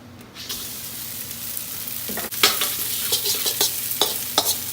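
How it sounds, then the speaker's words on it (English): Rice toasts in a little vegetable oil in a hot pan, a continuous close sizzle broken by scraping stirs and soft clacks, moderately loud with no talking. "So I want to give this rice a couple minutes just to kind of make contact with the surface of the pan and just get toasty."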